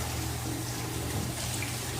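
Continuous rush of running water rinsing shampoo off a German Shepherd or Husky during a bath at a Tractor Supply dog wash station, a steady close splash and spray with no talking.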